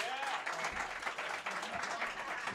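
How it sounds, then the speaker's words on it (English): Audience clapping fills a comedy roast show, a dense, steady wash of applause from a small crowd throughout, with a few voices mixed into the noise. "clap your hands if it's your first time here at the Roastmasters"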